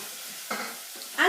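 Beef mince sizzles and crackles in a hot frying pan, with brief bursts of stirring and scraping close by.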